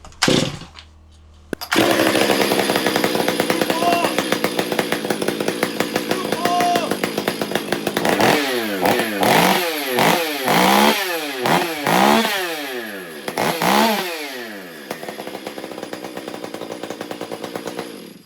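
A chainsaw fires up after a pull and runs loudly, its engine revving up and down repeatedly in bursts, close and harsh.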